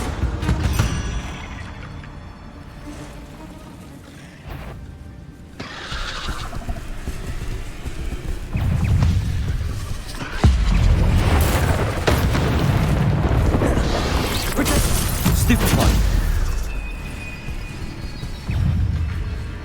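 Spells cast in the video game Hogwarts Legacy burst and whoosh in rapid succession over a dense bed of rumbling game effects and music, loud and continuous with heavier impacts toward the middle.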